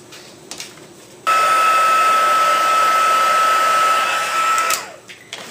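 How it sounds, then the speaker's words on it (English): A heat tool blows steadily for several seconds to heat-set Brusho paint, a loud even whoosh with a thin high whine, switching on abruptly and then winding down. "Okay, so now I'm going to heat set this."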